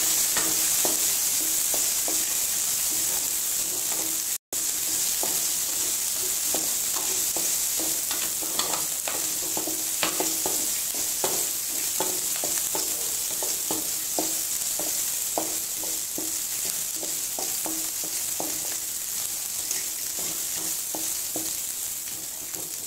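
Onions and green chilies for poori masala sauté in a hot pan with a loud, continuous, even sizzle, while frequent light clicks and scrapes from stirring run throughout.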